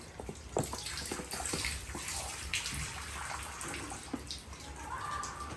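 Rainwater leaking into a shop, flowing and splashing steadily across the floor with a continuous watery rush and scattered drips, fairly close and heard alone without talk.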